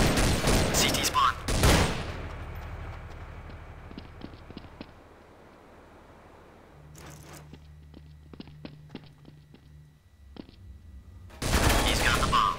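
Gunfire in Counter-Strike: Source on the de_train bomb defusal map: loud rapid bursts open and close the stretch, with quieter footsteps and scattered distant shots in between.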